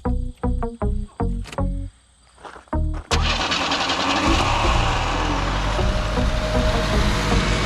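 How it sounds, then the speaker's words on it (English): A car engine cranks in a run of rhythmic starter bursts with no fuel in the carburetor bowl, stops, cranks again, then catches and settles into a loud, steady, close running roar. "I know there's no fuel in the bowl, so it might take a bit of cranking to get where we're going."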